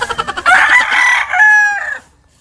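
A pullet chicken in a backyard coop gives a few short clucks, then a loud, drawn-out crowing call that trails off, close and alone.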